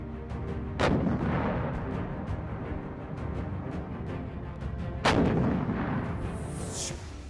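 A PzH 2000 howitzer fired by the Ukrainian Army booms twice, about four seconds apart, each heavy blast trailing into a long rumbling echo over distant background noise.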